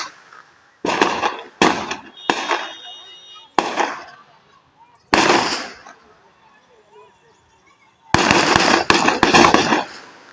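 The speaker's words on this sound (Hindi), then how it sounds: "सामने आया था ताबड़तोड़ फायरिंग का वीडियो" Rapid gunfire crackles in bursts of sharp, loud shots from a played clip of a shootout, several spaced volleys then a dense rattling cluster near the end, alone without talk.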